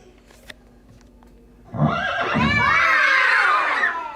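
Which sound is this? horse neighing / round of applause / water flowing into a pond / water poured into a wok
horse neighing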